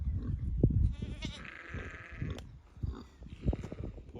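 A ram on a farm gives a few wavering bleats, one long call in the middle and a shorter one near the end. Soft rustling and low thumps from nearby farm animals fill the gaps.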